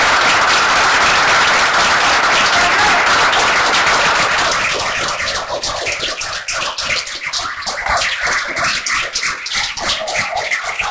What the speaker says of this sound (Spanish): Yo les agradezco mucho los aplausos